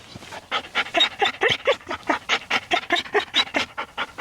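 A high-drive dog pants rapidly and steadily at close range, with quick rhythmic huffing breaths and an occasional faint whimper, and no talk over it.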